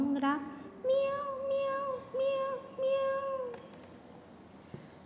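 A cat meows several times in a row, clear and close, each call a drawn-out tonal cry with short gaps between them, followed by a brief quiet stretch.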